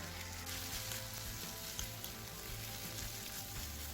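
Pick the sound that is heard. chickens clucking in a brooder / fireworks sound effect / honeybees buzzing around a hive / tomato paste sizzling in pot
tomato paste sizzling in pot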